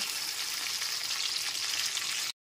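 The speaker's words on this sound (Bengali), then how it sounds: "ক্যাপসিকাম আর টমেটো টুকরোগুলো এখানে ভাজা হয়ে গেছে।" Capsicum and tomato pieces frying in hot oil, a steady bright sizzle that continues evenly before cutting off abruptly.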